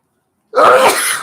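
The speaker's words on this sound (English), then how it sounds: "I had to sneeze." After a moment of silence, a single loud, close sneeze bursts out abruptly and trails off.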